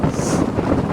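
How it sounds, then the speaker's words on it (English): Strong wind buffets the microphone outdoors on a cold-weather fishing trip, a loud continuous rumbling roar that fills the whole second with no talking. "Sorry, it's so windy."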